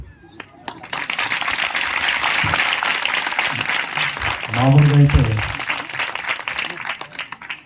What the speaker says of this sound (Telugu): మీ ఆనందం మీ సంతోషం మీ చప్పట్లో తెలియాలి